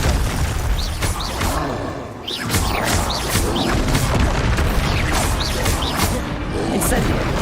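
Spell blasts fire in the Hogwarts Legacy video game, loud and continuous, with repeated booming bursts and crashes through the whole stretch. A voice calls out spell names over the effects.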